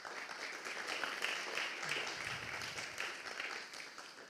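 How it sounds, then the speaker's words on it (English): Audience applause fills an auditorium at a Python programming conference, a sustained, dense wash of many hands clapping at steady volume from start to finish, honoring the event's organizers. "I just would like to ask for another round of applause for the organizers"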